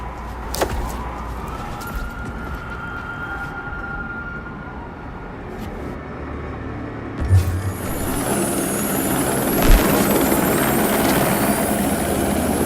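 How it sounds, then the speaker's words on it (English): A helicopter's steady rotor drone in the video game Watch Dogs 2 fills the scene, swelling louder and closer toward the end, with a couple of sharp thumps layered over it. "I do believe that is a helicopter"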